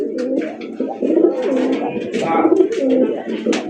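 Fancy pigeons at a market stall coo repeatedly in close, throaty bursts, several birds overlapping.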